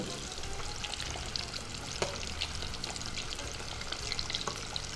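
Chicken pieces frying in fresh oil and being turned over, a dense continuous bubbling sizzle with faint clicks of a utensil, steady and close throughout, no voices.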